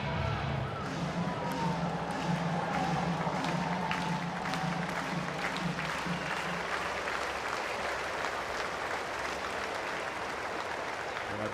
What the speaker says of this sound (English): Beginning to clap, hoping for a 5th strikeout.